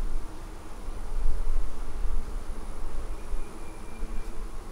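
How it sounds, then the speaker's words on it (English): Steady buzzing of many honeybees at a hive screen while queens are installed, humming close by, continuous and fairly even with a low droning background. "We have bees coming to the screen."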